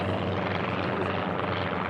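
A Formula One class racing propeller plane at a national championship air race gives a loud, steady, continuous engine drone with no break and no talking.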